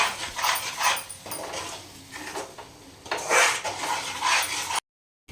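A utensil stirring mushroom manchurian sauce in a pan, with repeated scraping and clinking of metal against the cookware in uneven strokes, fairly close and loud, before cutting off abruptly into silence.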